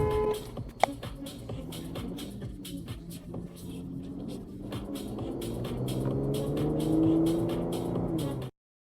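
A Dodge car drives along a road, its engine note climbing steadily in a rising, revving drone with a whirring rumble underneath. The engine grows slightly louder toward the end and stops abruptly.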